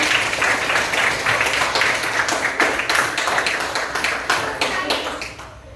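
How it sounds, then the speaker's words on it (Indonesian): Classroom applause after a student poster presentation on dengue prevention, rapid fairly close clapping from a small group with distinct individual claps, steady and loud throughout. "Beri tepuk tangan yang meriah"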